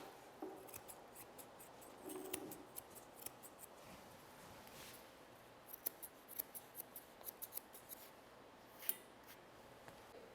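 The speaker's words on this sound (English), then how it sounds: "I will take my curved shears and I'm going to set the front of the foot by trimming it" Curved grooming shears trimming the hair at the front of a Miniature Schnauzer's foot, right against the toenails, with quiet, close snips coming in irregular bursts and quickening into rapid clusters toward the end, with no one talking.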